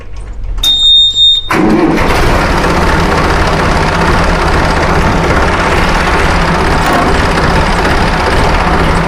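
After a short electronic beep, a Sonalika 60 DI tractor's diesel engine cranks and catches, then settles into a loud, steady idle rumble close by.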